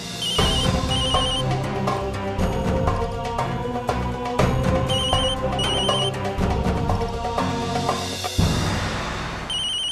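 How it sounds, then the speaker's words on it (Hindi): A mobile phone ringtone plays a repeating electronic melody, loud and close, looping several times without pause. "मेरे फोन की रिंगटोन बज रही है।"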